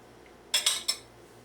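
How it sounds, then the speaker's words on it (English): A kitchen knife slices a tomato in half on a cutting board, giving three quick, close, sharp taps in a row against otherwise quiet surroundings. "Let's cut one of the tomatoes in half."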